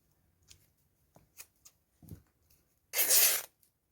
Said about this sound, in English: Let's cut some of that out as well.